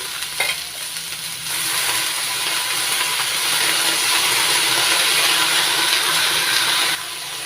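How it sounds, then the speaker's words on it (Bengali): Drumstick leaves are stirred into fried potato and eggplant in a hot pan, producing a loud, continuous sizzling hiss with soft stirring scrapes, close and steady throughout. "নাড়াচাড়া করে মিশিয়ে নিচ্ছি"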